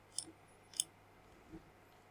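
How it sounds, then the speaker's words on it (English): Faint, sharp computer mouse clicks, two close together and a softer one a moment later, in a quiet room. "Okay, then I'm clicking OK."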